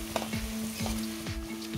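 Onions and green chillies sizzle steadily in a hot pan while a spatula scrapes and stirs in a slow, repeating rhythm of about four strokes, close and fairly loud, with no talking.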